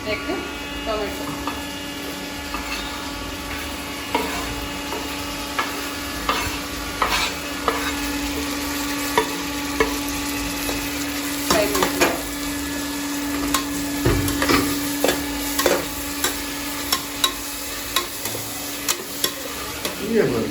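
Tomato frying in a pan for chicken white biryani, a steady low sizzle running throughout with repeated stirring scrapes and clinks of the spoon against the pan.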